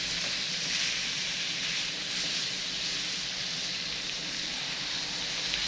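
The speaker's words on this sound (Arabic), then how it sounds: "بعد كده بحط اللحمه بس ايه تاخد التشويحه كده الخفيفه ويتغير لونها" Meat sizzles steadily in a pan of butter and garlic, a continuous close hiss and crackle of frying with no talk.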